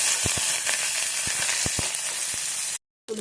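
Curry leaves added to hot oil with onions for an amaranth-leaf (totakura) pulusu, sizzling steadily while a spoon stirs with sharp taps and scrapes. The frying cuts off into silence near the end.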